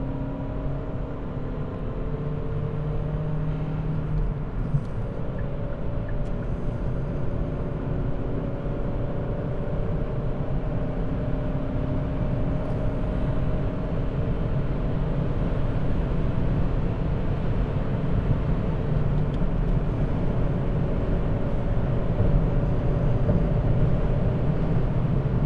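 A 2020 Hyundai i30 Kombi estate with a 1.6 CRDi diesel 48V mild-hybrid engine accelerating, heard from inside as a steady, even drone of engine and road noise with slowly rising tones and no talk.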